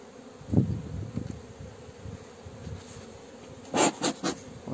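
Soft, steady honeybee buzzing at an apiary hive fills the background, with a few louder thumps and brief bursts of activity near the end.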